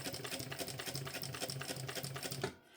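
A sewing machine runs in a fast, even stitching rhythm while sewing a pocket onto a backpack lining, steady for a couple of seconds before stopping abruptly, close and fairly quiet.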